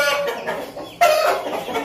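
A domestic rooster clucking and calling, close and fairly loud, a run of throaty clucks followed by a sharper, louder call partway through.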